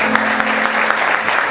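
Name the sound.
congregation applauding in church service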